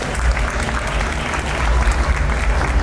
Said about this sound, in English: Clap it up for Mark Worthington.